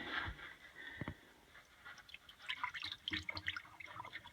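Automotive antifreeze poured from a cup into an upstairs bathroom drain P-trap while winterizing a house during a cold snap, giving a short trickle and scattered drips and splashes close by.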